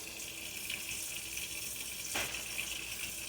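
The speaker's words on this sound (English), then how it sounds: "I want to make sure that I rinse off the meat" Tap water runs steadily into a kitchen sink while meat is rinsed, a soft, even hiss of flow with a faint splash or clunk partway through.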